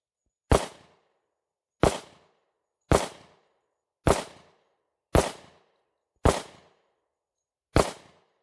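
Seven gunshots from a Smith & Wesson 1076 10mm pistol, sharp, loud cracks with short decaying tails, fired at a slow, slightly uneven pace about a second apart, with silence between.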